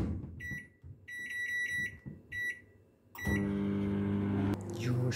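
A microwave oven cooking a mug cookie sends out a series of sharp electronic beeps as it is set, then its steady loud hum starts and runs on.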